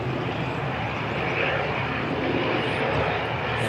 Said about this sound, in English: And the ATR heading out